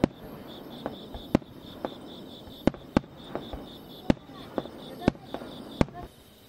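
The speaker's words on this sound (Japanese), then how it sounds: "地元の花火大会を見に来ました。" Fireworks bursting at a local countryside fireworks festival: a series of distant, sharp pops and booms at irregular intervals, roughly a dozen in a few seconds, over a constant chirping of crickets.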